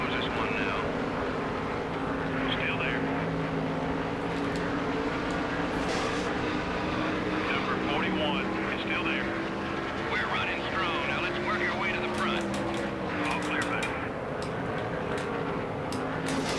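A race car engine in the video game NASCAR Thunder 2003 holds a constant droning whine, fairly faint and steady, beneath someone talking throughout.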